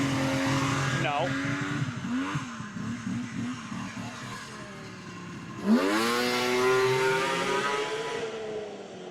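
Vintage snowmobile engine at a fall shakedown ride idles and revs nearby, then surges into a loud climbing rev, with people's voices mixed in.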